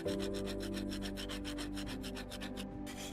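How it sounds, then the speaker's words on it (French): A spatula scrapes rust from an old iron lid in quick, steady back-and-forth rasping strokes, close and continuous, with no voices. "nous avons commencé à nettoyer le couvercle de la rouille avec une spatule"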